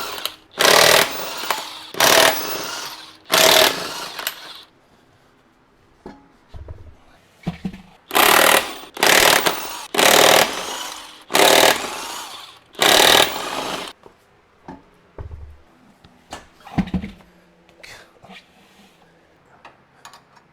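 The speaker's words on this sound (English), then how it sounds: "With a 22mm socket, we're going to go ahead and remove our rear wheels." An impact wrench with a 22mm socket removes the rear wheel nuts on a Jeep Rubicon 392, firing in a series of loud, close hammering bursts separated by short quiet gaps and faint clatter.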